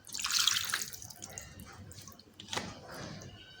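Water poured into a pot of beef curry in a home kitchen, a short bright splashing pour at the start that fades, followed by a fainter second trickle.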